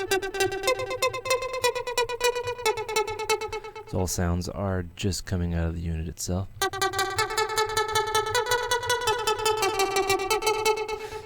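Roland JP-8080 virtual analog synthesizer playing a bright, buzzing Super Saw trance lead, sustained and layered, broken in the middle by someone talking over it before the synth swells back in.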